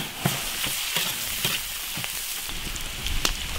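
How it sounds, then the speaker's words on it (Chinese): Beef tripe stir-frying in a hot wok, a steady close sizzle broken by a series of sharp scraping strikes from the spatula at irregular intervals, with no talk over it. "牛肚下锅炒。"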